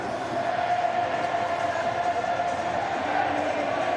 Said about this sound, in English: Great excitement in the crowd